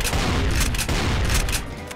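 Rapid, dense bursts of explosions and gunfire from grenade-throwing enemies in a tropical-themed Doom mod, loud and continuous with booming low end and no talk.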